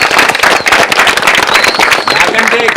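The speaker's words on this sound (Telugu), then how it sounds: "I want everyone to clap for him really" An audience claps and cheers loudly at a film premiere show: dense, rapid, continuous applause that fills the room, with a few whistles and voices mixed in.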